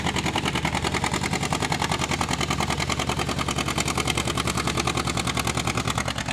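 A two-cylinder John Deere tractor with a 413 cubic inch engine idles at a 5500 lb class barnyard tractor pull at the Georgetown Fair, its loud, steady, rapid pulsing chug filling the air without pause.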